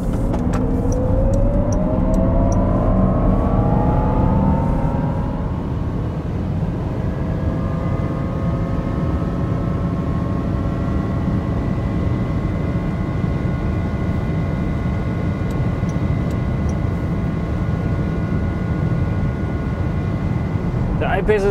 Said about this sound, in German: wenn man so viel Leistung hat wie hier mit dem Jaguar I-Pace, dann muss man natürlich auch auf die Autobahn und das machen wir jetzt.